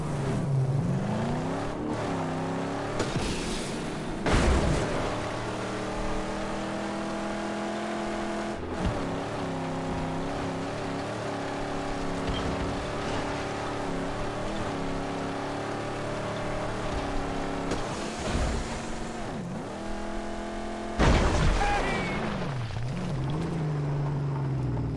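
A car drives across a dried-up seabed in the video game Mad Max, its engine droning steadily with rising and falling revs, broken by a few sharp bumps and clanks, with no talk.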